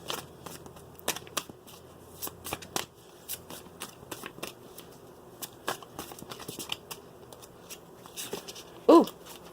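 Ascended Masters oracle cards being shuffled make a quick series of crisp riffling snaps and soft slaps in irregular bursts, close and fairly quiet.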